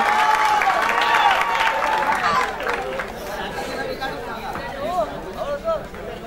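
An audience at a school event bursts into applause for a teacher, a loud wash of clapping mixed with crowd chatter that fades into murmuring voices after a few seconds.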